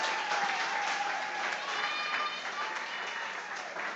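A studio audience claps steadily for the chefs at a cooking showdown, a dense even applause that holds for several seconds with no clear voices over it.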